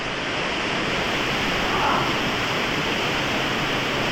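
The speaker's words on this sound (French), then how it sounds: "c'est une petite remontée sous cascade" Steady, loud rush of a waterfall in an underground cave river on the Coufin-Chevaline caving traverse in the Vercors, a dense roar of falling water filling the whole clip without pause.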